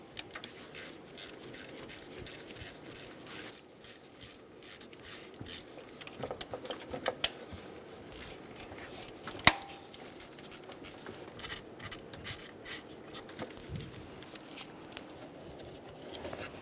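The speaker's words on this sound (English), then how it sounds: "Using a 6mm hex bit, we're going to remove the bolts for the coil packs." Quiet scraping and clicking of a 6mm hex bit turning out coil pack bolts on a 2003-2008 Honda Pilot engine, with intermittent ratchety taps and metallic clinks, some sharper knocks scattered throughout.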